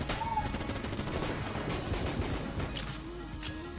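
Rapid gunfire bursts from a hammer-shooting gun in the Enter the Gungeon video game, a dense crackling volley of game shots with no talk over it.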